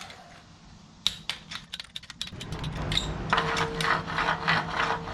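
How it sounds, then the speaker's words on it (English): A wrench torquing down the case bolts on a VW 1968cc stroker engine, a run of close clicking ratchet strokes that builds into denser mechanical rattling, moderately loud. "now I'm gonna go ahead and start torquing her down"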